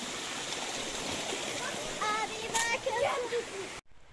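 A small mountain stream in the Pyrenees flows with a steady, broad rushing hiss close by, briefly overlaid by faint bird calls before cutting out near the end.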